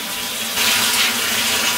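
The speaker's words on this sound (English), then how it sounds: "I'm gonna put 2 cups of water in here" Water pouring from a tap into a pot for yellow rice, a brief, loud, close splashing rush that grows slightly fuller partway through, with no talking.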